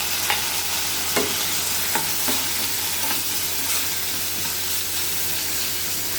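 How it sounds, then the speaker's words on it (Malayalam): Onion and tomato sauté in a hot pan with a steady, close sizzle, punctuated every second or so by the sharp scrape and clack of a stirring spoon; no voices. "അത് നന്നായിട്ട് നല്ലോണം ഒന്ന് വഴറ്റിയെടുക്കാം"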